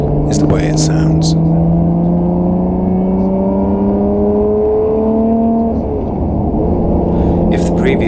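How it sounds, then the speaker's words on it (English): Lotus Evora 400 V6 engine and exhaust rev steadily, a loud sustained rising drone with a wavering pitch that dips briefly near the end, close and continuous throughout. "the first thing you notice about the new Evora 400 is the way it sounds"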